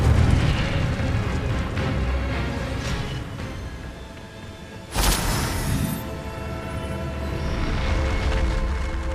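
An Incendio fire spell blasts in Hogwarts Legacy, a sudden loud whoosh and burst midway through a low, rumbling game ambience.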